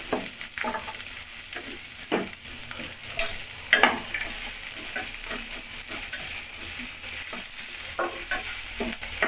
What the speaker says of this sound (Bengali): পেঁয়াজটা ভাজা ভাজা হোক বন্ধুরা, তারপর অন্য কিছু দেবো